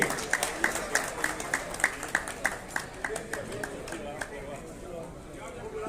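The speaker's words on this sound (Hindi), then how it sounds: "तालियां होनी चाहिए।" Audience clapping to welcome guests at a Hindi film event, starting with a rhythmic, evenly spaced clap beat that loosens into a looser scatter of claps, with voices talking over it.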